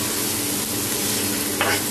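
Onions frying lightly in a pan for chicken momo filling, with ginger added, give a steady soft sizzle throughout, close and continuous, with a brief stir scrape near the end.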